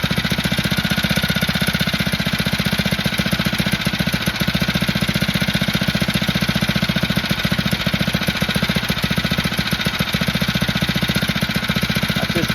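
A Phatmoto motorized bike engine runs with the choke off, a loud, rapid, steady small-engine putter close by that holds its pace throughout with no pauses.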